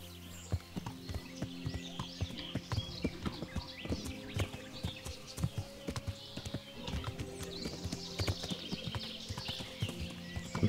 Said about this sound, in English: Hop back in the horse.